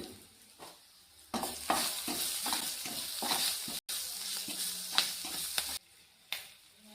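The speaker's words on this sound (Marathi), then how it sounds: "अद्रक लसूण हे पण एका बाजूला फ्राय करून घेते" Ginger and garlic frying in a pan beside okra and potato, a steady close sizzle with repeated scraping strokes of a stirring spatula that briefly drops out and returns.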